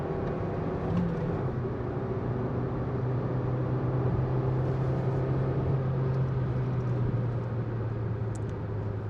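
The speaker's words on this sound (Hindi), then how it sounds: "आवाज़ इतनी प्यारी आती है गाड़ी के इंजन की पुल करने पे।" Maruti Suzuki Fronx car engine pulling under acceleration, a steady, fairly loud hum with a low tone that slowly shifts in pitch, heard from inside the cabin with no talk.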